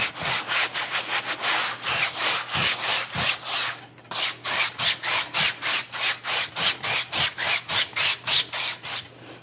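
A paintbrush scrubs oil paint hard into canvas in quick, steady back-and-forth strokes, close and fairly loud, with a brief break partway through before the rhythmic rubbing resumes.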